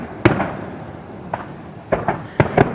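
Neighborhood fireworks set off around a backyard, several sharp pops and booms at uneven intervals, some in quick pairs, moderately distant and echoing.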